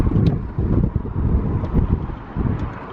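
Strong wind buffets the microphone, producing loud low rumbling gusts that swell and ease continuously, with no voices heard.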